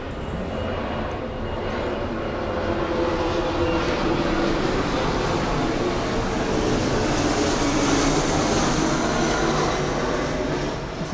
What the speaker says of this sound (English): To hear a plane coming over here.